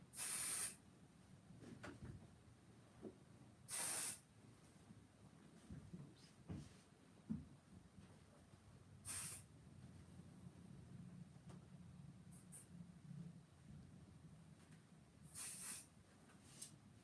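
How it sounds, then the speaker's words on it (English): Basting spray hisses from an aerosol can in several short sharp bursts spaced a few seconds apart, close and loud, with soft handling noises in between during rope basket work. "Alright, I'll put more basting spray on there."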